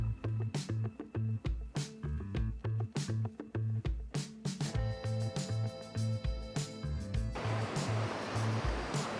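A rhythmic beat thumps steadily for several seconds, then gives way to the loud, continuous roar of a waterfall in Pokhara, Nepal, crashing nearby.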